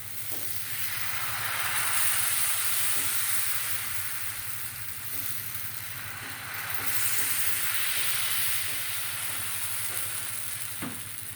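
Jowar flour dosa sizzling steadily on a hot pan, a continuous close frying hiss that swells and eases with no one speaking.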